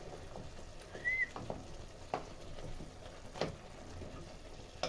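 Tilapia fish frying in a pan, a faint steady crackle and sizzle with a few sharp pops and utensil taps, quiet and close.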